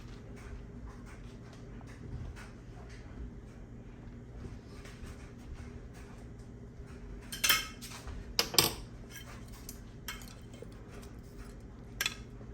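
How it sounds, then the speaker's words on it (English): Pieces of cube steak being added to gravy in a pan at home, with sparse clinks and light scraping of utensils against cookware, a couple of sharper metallic taps standing out, no talking. "I'm going to continue to add the rest of the meat"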